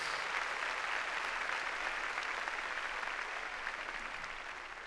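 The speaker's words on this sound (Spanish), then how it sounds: "démosle palmas fuertes a nuestro Señor" A church congregation applauds steadily for several seconds, a dense wash of clapping that slowly fades slightly toward the end.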